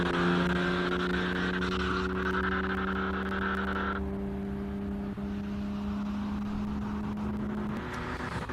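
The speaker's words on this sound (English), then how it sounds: "The Porsche 914 is back out." A Porsche 914 race car at a classic car hill climb holds a steady, sustained engine drone as it drives the course, moderately loud, with the pitch shifting through the run.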